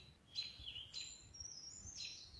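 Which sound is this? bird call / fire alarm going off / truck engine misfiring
bird call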